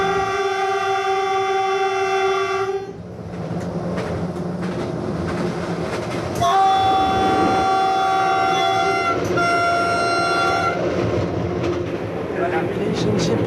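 Vietnam's Reunification Express train rumbles steadily nearby, its horn sounding in long sustained tones at the start and again midway, with some voices in the background.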